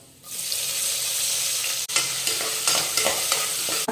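Loud, constant sizzling as onions fry in hot ghee and oil, with a short break and then scraping stirring strokes over the hiss.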